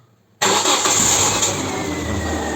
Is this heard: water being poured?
no